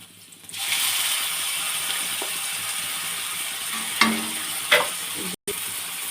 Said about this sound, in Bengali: দিয়ে এইটাকে নাড়িয়ে নেব ভাজা ভাজা হওয়া পর্যন্ত।